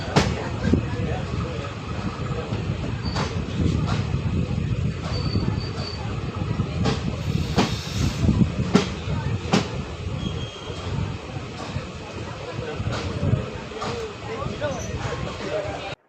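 Aboard the Okha Ernakulam Express running between Karwar and Bengaluru, a steady rumbling hum fills the carriage with sharp rhythmic clacks of wheels over rail joints, while people talk nearby.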